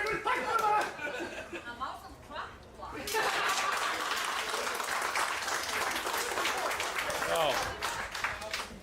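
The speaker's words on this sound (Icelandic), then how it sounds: "Gefum honum gott klapp honum Hjálmari" At a bench press competition, voices chatter and laugh briefly, then a crowd bursts into sustained applause, many hands clapping steadily for several seconds.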